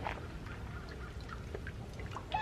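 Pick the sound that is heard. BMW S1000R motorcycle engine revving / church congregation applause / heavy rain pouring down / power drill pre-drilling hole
heavy rain pouring down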